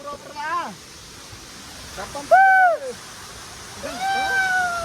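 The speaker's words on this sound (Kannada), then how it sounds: "ಇಲ್ಲೇ ಐತಿ ಫಾಲ್ಸ್." A steady rush of falling water from a waterfall at Kemmangundi, Chikkamagalur fills the background while voices talk loudly over it.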